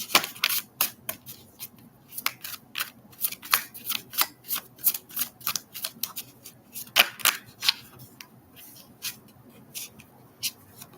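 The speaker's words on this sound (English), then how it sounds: "Shuffle it one more time." Tarot cards shuffled by hand in a quiet room, a long run of crisp, rapid riffling snaps and soft slides coming in irregular bursts, close and fairly loud, with no talking.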